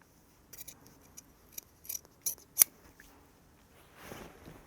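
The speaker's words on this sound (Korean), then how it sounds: "다 됐으면 이렇게 여유분이 있는 소매들은 잘라 줄게요." Scissors trimming excess fabric from a men's jacket sleeve during tailoring, a series of quiet close snips and light clicks, irregularly spaced, with soft fabric rustle at the end and no talk.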